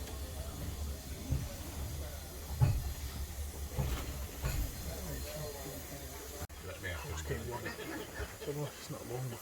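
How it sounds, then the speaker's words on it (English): A steam locomotive couples up to its train at a heritage railway station in Pickering, Yorkshire: steady hissing steam with low knocks and clanks, under ongoing nearby chatter. "You can hear the engine hooked up there."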